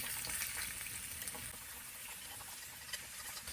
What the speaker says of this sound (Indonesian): Jadi kita menggoreng jahe ini ya dengan api menengah